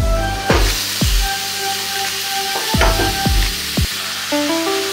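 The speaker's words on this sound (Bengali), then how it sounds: "এবার আমি দিয়ে দেবো ওই কোচানো ঝিঙে আর বেগুনটা।" Chopped ridge gourd and eggplant added to lightly fried potato sizzle loudly in an oiled pan, with repeated spatula scrapes and knocks against the metal cutting through the steady frying hiss.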